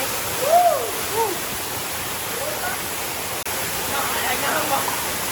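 A steady broadband rush of a flowing forest stream runs throughout, with a brief faint voice-like call near the start.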